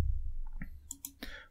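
A few sharp mouse clicks land close and crisp against a low background hum, spaced over about a second as the Run button is pressed in a TrueNAS backup task.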